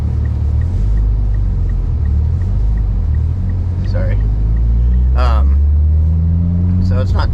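Mitsubishi Evo X on all-season tires driving through about 3 or 4 inches of snow, a loud steady low engine and road rumble filling the whole stretch, with a voice speaking briefly near the end.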